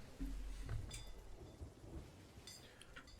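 Video game thunderstorm with rain pattering steadily and thunder crashing low and heavy near the start, a faint rumble continuing under the rain, with no talking.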